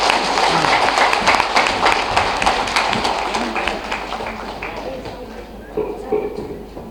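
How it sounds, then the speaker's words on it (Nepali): A dense crowd applauds to welcome a party general secretary at a CPN-UML political rally, with steady, close clapping that holds throughout and eases slightly toward the end. "महासचिव कमरेडलाई स्वागत गर्दै ताली बजाउँ है सबैले।"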